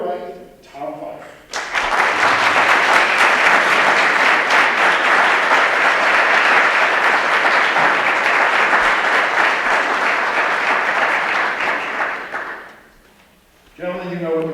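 A debate audience bursts into sustained applause welcoming two political debaters on stage, loud and dense clapping that swells quickly, holds steady for about ten seconds, then fades out with voices at the edges.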